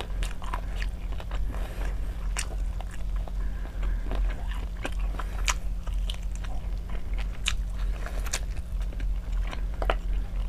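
Close, steady mukbang chewing and biting of chicken teriyaki, with small crunchy and wet mouth sounds repeating throughout over a low constant hum.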